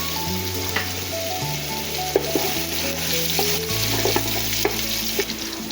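Ginger sautés in hot olive oil with a loud, continuous close sizzle and crackle, dotted with occasional light taps and scrapes of stirring, with no voices.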